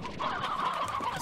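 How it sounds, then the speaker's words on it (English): Chickens in the Slime Rancher video game cluck and gobble in a steady warbling burst, a continuous game sound effect without any talk. "Our chickens are not going to ever do anything but make chickens."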